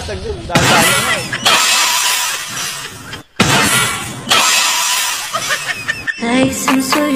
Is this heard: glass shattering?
yes